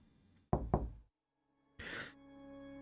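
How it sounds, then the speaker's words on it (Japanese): Two quick, firm knocks rap on a car window, close and distinct in a hushed interior, followed by a pause and then a brief soft rustle against a faint steady electronic hum. "自動車の窓がノックされた。"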